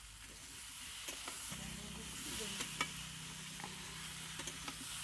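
Eggs frying in a pan in a home kitchen, a steady soft sizzle and hiss with occasional stirring scrapes and clicks, fairly quiet, with a low hum underneath from about the midpoint.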